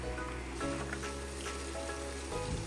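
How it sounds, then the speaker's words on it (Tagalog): Garlic frying in hot oil for palabok sauce, a quiet, steady sizzle with faint crackles, close and continuous. "Pag mainit na yung ating mantika, ilagay na natin yung bawang."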